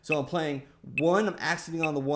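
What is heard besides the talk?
None of the usual background noises is heard.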